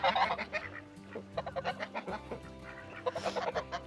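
Close, loud quacking and honking from a group of ducks, rapid overlapping calls in bursts with no talking.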